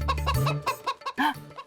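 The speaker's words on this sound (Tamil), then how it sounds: "கோழி என்ன கொத்தி திங்குது" A chicken clucks in a quick series of short, close calls, with a brief low rumble at the start.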